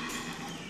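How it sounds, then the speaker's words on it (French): A horse gallops in a recording played back from a cassette tape, a short dense burst of hoofbeats under a hissy, saturated wash. "on dirait vraiment que c'est le cheval"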